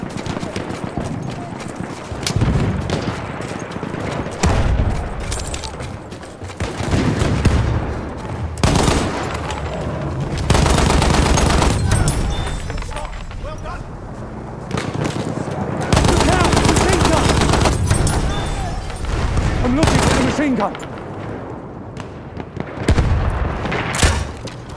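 MG15 n.A. machine gun on the Amiens map in Battlefield 1 firing in long loud bursts, with battlefield explosions and shouted in-game voices in between.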